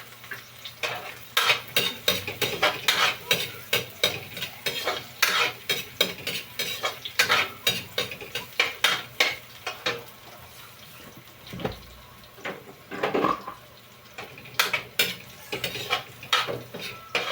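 Onions sautéing in a hot pan for a bitter melon and egg dish, with repeated scraping stir strokes and clattering utensil hits over a steady sizzle, close and fairly loud, no talking.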